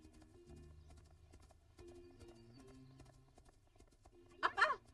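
Hooves clip-clop steadily at a distance, with a short loud horse whinny near the end.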